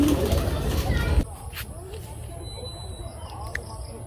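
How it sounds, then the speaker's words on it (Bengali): Pet pigeons kept indoors at a village house coo faintly in the background, following a loud burst of rustling noise at the start. "এই যে ভিতরে আবার কবুতর পালে"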